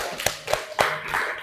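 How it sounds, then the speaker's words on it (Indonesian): A few people clap briefly after a classroom presentation, a handful of distinct nearby claps over about a second and a half, thin rather than a full crowd. "Ya, kasih aplaus."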